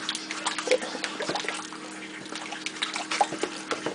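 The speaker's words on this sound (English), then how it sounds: "I'm just going to stir it to incorporate it." A spoon stirring homemade gravy for Salisbury steak patties in a pan gives soft, wet sloshing and clicking sounds, quiet and irregular, with no talking.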